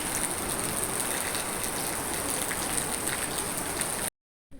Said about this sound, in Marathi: खूप जोराचा पाऊस चालू आहे आता सध्या